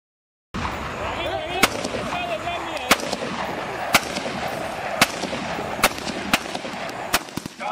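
Sharp gunshots from military training crack at irregular intervals, about a dozen, over a dense background of chanting voices and crowd noise.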